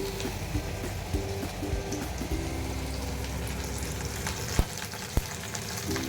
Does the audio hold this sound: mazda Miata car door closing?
no